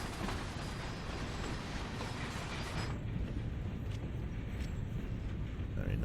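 Simulated train rolling on rails in Train Sim World 2020 on the East Coastway line between Brighton and Eastbourne: a steady, loud low rumble throughout, the upper hiss thinning after the first half.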